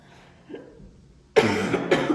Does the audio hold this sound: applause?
no